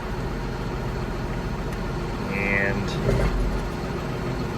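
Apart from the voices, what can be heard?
farm tractor engine idling in neutral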